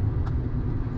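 An old truck engine idles and runs with a steady, deep low rumble. It is close and continuous, with no talking over it.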